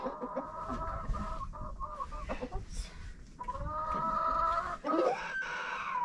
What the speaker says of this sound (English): He's a black copper maroon rooster.